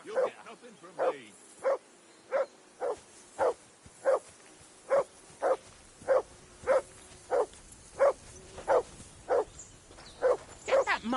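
A dog barks steadily in the video game Kingdom Come: Deliverance 2, about twenty evenly spaced barks at a moderate distance, with faint background ambience beneath them.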